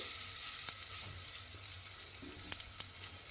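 Spoonfuls of fritter batter for bora frying in hot oil give a soft, even sizzle with scattered light crackles and a few sharp ticks, fairly quiet throughout.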